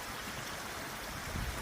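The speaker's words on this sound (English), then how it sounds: "See a little waterfall up there." Steady, soft rushing of a small waterfall beside a lake trail, heard from a distance as a constant wash of falling water with no voices.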